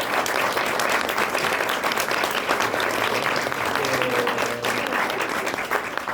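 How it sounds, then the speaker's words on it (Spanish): Sustained audience applause fills a talk at Mexico's national sound archive, a dense steady patter of many hands at even loudness for the whole stretch, with a few faint voices underneath. "un aplauso. Por favor."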